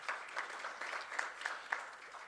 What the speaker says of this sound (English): Yes, a round of applause for her